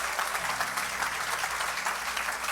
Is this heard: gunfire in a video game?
no